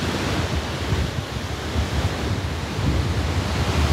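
Ocean surf breaking on My Khe Beach in Vietnam, a steady broadband wash of waves with wind buffeting the microphone, swelling slightly louder toward the end, no voices.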